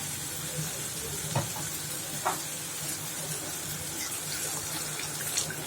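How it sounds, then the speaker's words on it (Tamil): Water pours steadily into a pan of masala with a soft hiss and faint sizzle, a couple of small clinks breaking through. "இப்போ இதிலே வந்து கொஞ்சமாக தண்ணி விட்டுடலாம்"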